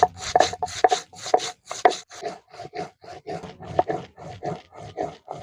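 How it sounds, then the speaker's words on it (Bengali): Coriander and cumin seeds ground together on a grinding stone, a loud, rhythmic series of rough rubbing strokes, evenly spaced back-and-forth grinding close by with no voices. "ধনে আর জিরে নিয়েছি, একসঙ্গে বেটে নেব।"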